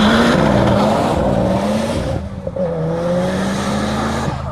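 A Mitsubishi Evo 9 on a wet road roars under hard acceleration, engine loud and close with tire hiss, dipping briefly at a gear change before pulling strongly again.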